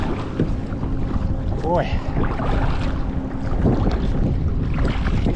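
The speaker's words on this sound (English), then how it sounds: "Oh yeah, rowing into the wind." Strong wind buffets the microphone while rowing a boat into it on the Merrimack River in Lowell, Massachusetts, a loud continuous rumble with faint creaks and a brief spoken word.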